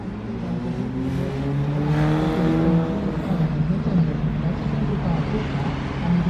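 A Solaris Urbino 12 electric bus, built in Bolechowo, Poland, drives past in a public transport parade, a steady rising electric motor whine with road rumble, while a voice talks over it.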